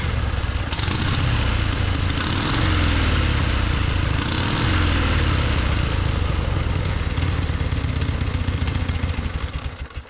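An old engine that had not run in 30 years runs steadily and loudly with a rattling, chugging clatter throughout, close to the microphone and never dropping to idle.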